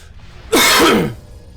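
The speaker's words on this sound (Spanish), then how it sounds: "no sé por qué tengo tanta tos" One sharp, close throat-clearing cough bursts out from a quiet room, rough and hoarse for about half a second before fading.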